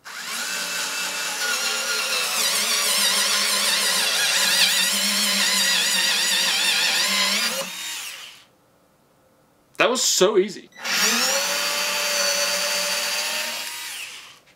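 An electric screwdriver from QVC drills a hole, whining loudly and continuously for several seconds up close, then stops; after a brief pause and a short spoken remark it runs again.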